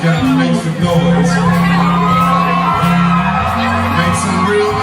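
Live concert crowd cheering, whooping and shouting continuously and loudly before the headliner takes the stage, with a sustained low musical tone underneath and voices mixed through the noise.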